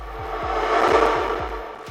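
A swelling reversed reverb wash of a chanted vocal sample, building up and fading, with a steady low pulsing beat of repeated thumps running underneath.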